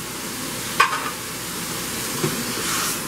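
Pork ribs sizzle steadily in a hot pan, a close, even frying hiss with a couple of brief scraping stirs of a utensil against the pan.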